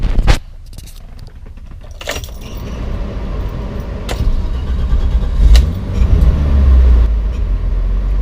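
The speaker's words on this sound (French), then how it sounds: "Je vais vous faire un démarrage à froid." Cold start of a BMW car engine: an early clunk, then scattered clicks and jangling before the engine turns over and settles into a low, steady idle rumble, close by and without speech.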